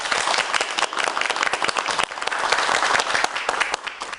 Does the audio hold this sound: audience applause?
yes